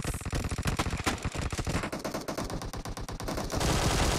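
Rapid automatic gunfire from the mobile battle game PUBG Mobile, dense bursts of close, loud shots rattling continuously, shifting to heavier, more distant volleys midway and then a sustained roar of shooting at the end.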